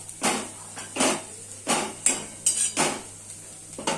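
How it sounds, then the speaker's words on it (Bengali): A lid is set on a pan of frying bitter gourd, with a series of about six evenly spaced metallic clanks and rattles, close and fairly crisp in a quiet kitchen. "এবার একটু এটাকে আমি চাপা দিয়ে হতে দেব।"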